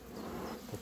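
Honeybees buzz steadily around a small Apidea queen-mating hive, a dense, close swarming drone with no voices.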